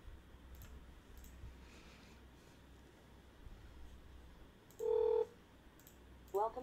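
Telephone keypad dialing into an automated IVR phone system: two short, clear tones after a stretch of quiet line hiss, the second one clipped and quieter, with faint ticking in the background.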